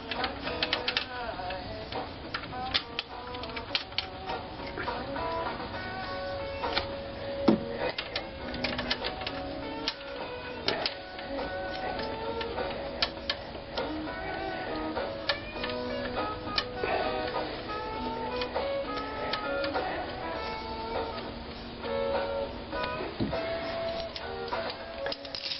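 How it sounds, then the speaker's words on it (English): Bolts are screwed in to draw a new front wheel bearing onto the splines of an Impala or Grand Prix, producing a steady run of quick ticking and clicking taps, close and moderately quiet, with faint talk underneath. "And we can screw the bolts in to catch the bearing."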